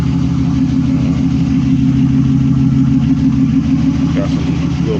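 A 1985 Chevrolet Monte Carlo SS with a Flowmaster exhaust idles close by, a steady, deep rumble with an even throb and no revving throughout.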